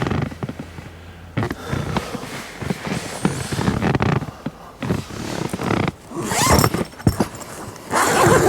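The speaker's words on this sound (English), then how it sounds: "you can then zip it up fully" A Haven tent hammock's zipper being worked closed in repeated raspy bursts of varying length, close up and loud, with brief pauses between pulls and no talking.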